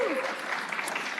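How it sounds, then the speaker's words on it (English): Audience at a disability legislative forum cheers and applauds, a brief, fairly faint burst of crowd noise with a short whoop near the start. "Lauren, yeah, you can cheer for that. I heard some cheering."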